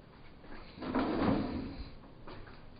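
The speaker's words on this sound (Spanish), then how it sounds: "Puerta corrediza bastante buena." A bathroom sliding door in an Italian hotel room rolls along its track in one soft, muffled sweep that swells in the middle and then tapers off, faint against quiet room noise.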